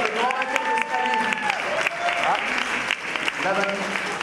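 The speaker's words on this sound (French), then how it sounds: "On peut les applaudir, c'est le grand vainqueur de ce rallye." Applause for the winning team of a university rally, steady clapping and crowd noise throughout with voices talking over it.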